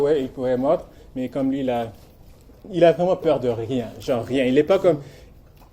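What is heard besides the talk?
No distinct noise like a dog, phone or traffic.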